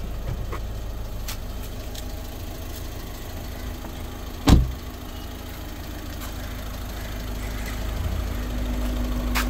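A 2016 Volkswagen Vento Highline diesel engine idles steadily at a low, even hum, with one brief louder thump midway.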